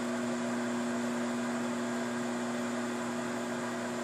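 A running microwave oven gives off a steady, even hum with a constant drone, unchanged throughout and without any voices.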